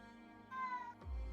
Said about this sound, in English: That is a cat.